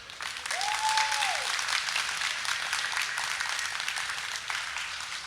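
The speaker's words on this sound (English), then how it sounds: "Can we also get a round of applause for them?" Audience applause fills the room at an osu! community event, a dense steady wash of clapping that rises quickly and holds loud throughout, with a brief tonal whoop near the start.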